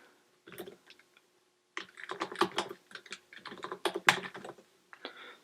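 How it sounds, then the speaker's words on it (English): Typing on a computer keyboard while entering budget expenses, with bursts of quick, irregular key clicks close to the microphone, separated by short pauses and no talking. "I will just type in a few more expenses here."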